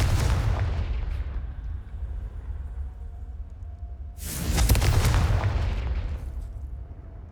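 Confringo blasting curse exploding in Hogwarts Legacy, a heavy rumbling blast that decays, then a second louder burst with crackling debris around the middle, booming and close.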